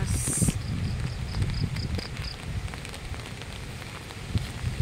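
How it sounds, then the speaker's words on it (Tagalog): Heavy rain and strong wind during a storm, a steady broadband wash of rain on surfaces with gusty roar, loud and continuous throughout with no speech. "malakas ang hangin, malakas ang ulan, pero ngayon humina na ang ulan"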